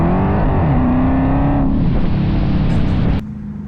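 Catless Dodge Hellcat pulling hard, its supercharged engine roaring loud and close with rising pitch through the gears, then abruptly lifting off and dropping to a lower drone near the end.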